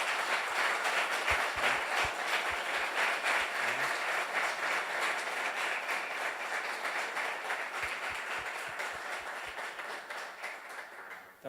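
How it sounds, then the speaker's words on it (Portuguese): Sustained audience applause at the closing session of a talk event, a dense, even wash of clapping lasting over ten seconds before tapering off at the end. "vamos puxar uma salva de palmas para o Luciano"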